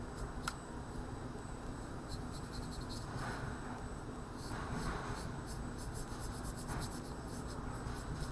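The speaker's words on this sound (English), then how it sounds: "Now I'm going to paint in my area carefully along my line." Paintbrush working paint onto paper for a wax resist landscape painting, a quiet scratchy brushing that continues steadily, close by, with light strokes throughout.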